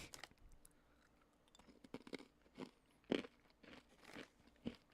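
Pretzels crunched and chewed close to the microphone, with a series of quiet, sharp, uneven crackling bites and chews separated by brief pauses and no speech.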